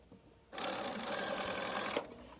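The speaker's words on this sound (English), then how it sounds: "I'm just going to sew with my Bernina 770 here with the basic #1 stitch" A Bernina 770 sewing machine runs its basic straight stitch in one steady, fast whir of about a second and a half, starting and stopping abruptly, close and alone.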